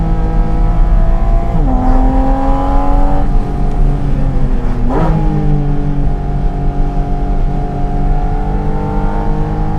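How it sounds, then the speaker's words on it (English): A loud 2023 Porsche 718 Cayman GT4 RS engine revs and climbs through gears, pitch rising and dipping with shifts, close and continuous without any talking. "Yeah, this car is loud"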